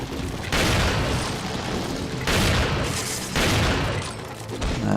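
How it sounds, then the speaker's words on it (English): Heavy booming gunshots from the video game Resident Evil 4, fired at a parasite. Three loud, sustained bursts follow one another at about one-second intervals. "so we're going to shoot it first"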